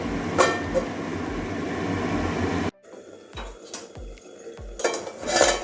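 A lid goes onto a cooking pot of potatoes and drumstick pods with poppy seed. A steady simmering hiss cuts off abruptly, followed by several separate metallic clinks and a clatter of cookware close by.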